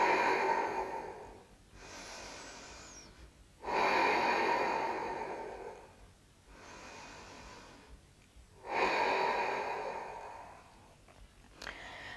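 Slow, deep breathing during yoga practice, with long audible inhales and exhales alternating in a steady rhythm, close and breathy, with no talk over it.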